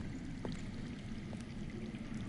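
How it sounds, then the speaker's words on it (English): Underground water flowing in a video game, a soft, steady low rush of running water that continues without a break, fairly faint and distant, with no voices over it. "I hear water. From underground."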